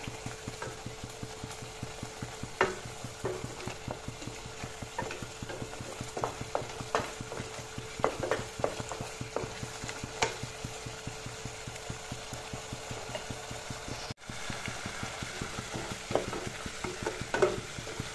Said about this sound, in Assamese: প্ৰায় 5 মিনিট সময় মই ভাজিলো